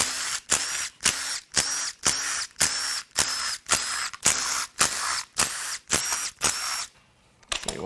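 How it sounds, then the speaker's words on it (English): On a 2015-2017 Ford F-150 2.7L Ecoboost V6, a power tool works the valve cover bolts in a quick series of about a dozen short, evenly spaced bursts heard up close, then goes quiet. "Now we can unbolt the valve cover."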